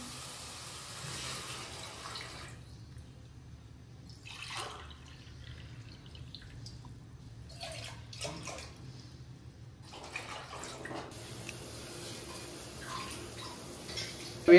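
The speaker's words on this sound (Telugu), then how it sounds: "ఇప్పుడు బగారా చేయడానికి వాటర్ యాడ్ చేసుకుందాము." Water poured into a cooking pot while making bagara rice: irregular splashing and trickling bursts at moderate level over a low background hum, with no talk.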